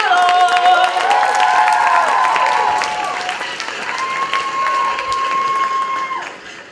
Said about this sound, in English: So please gather a round of applause for Ecuador